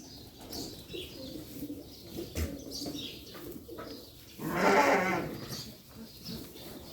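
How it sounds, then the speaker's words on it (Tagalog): Sheep on a farm, a flock bleating amid a steady background of other farm animals and birds, with one louder, drawn-out bleat up close partway through. "Dumami lalo ang tupa namin."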